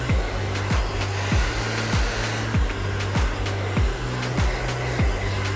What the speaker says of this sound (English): What we're doing is we're blow drying in a downward flow.